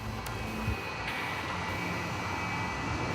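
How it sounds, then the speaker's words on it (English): An aircraft taxis at the world's busiest airport, heard as a steady engine hum and rumble under a constant high whine, with a few faint knocks near the start. "the taxiing aircraft is below the level of the runway"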